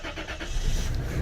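A car with a head gasket problem starts up after sitting about three days, the engine catching and settling into a rough, loud mid-range idle close by.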